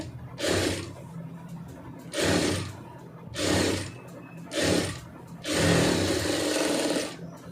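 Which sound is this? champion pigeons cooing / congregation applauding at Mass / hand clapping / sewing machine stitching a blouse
sewing machine stitching a blouse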